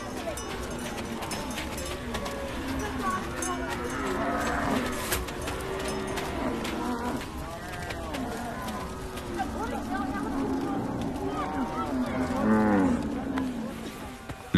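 Cattle herded by Dinka nomads in South Sudan moo repeatedly in long, overlapping calls, some near and loud, others farther off, forming a steady herd chorus.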